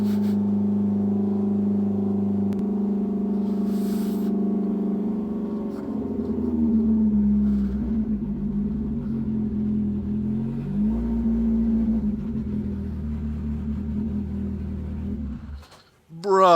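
A Polaris Pro R Factory Racing RZR off-road vehicle driving hard, its engine droning and rising in pitch as it revs, loud and close, with muffled voices underneath, cutting off abruptly at the end.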